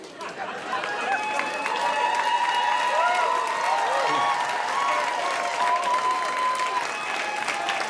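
A live audience at a political comedy show breaks into sustained applause with scattered cheers and whistles, a dense, fairly loud crowd roar that holds steady for several seconds with some chatter mixed in.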